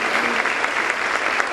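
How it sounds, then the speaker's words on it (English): A brief, dense burst of clapping from the audience at a country days queen pageant, even and fairly loud throughout. "Let's give them a big round of applause."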